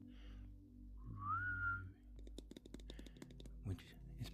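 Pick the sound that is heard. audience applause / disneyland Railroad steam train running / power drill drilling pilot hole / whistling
whistling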